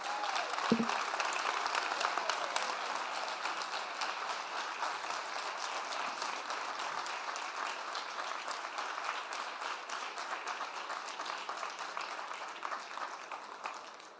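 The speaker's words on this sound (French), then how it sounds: "Applaudissez-les bien fort, s'il vous plaît." A crowd applauds steadily and fairly loud for the full length at a funeral ceremony conference, a dense wash of many clapping hands with no talk over it and a slight fade at the end.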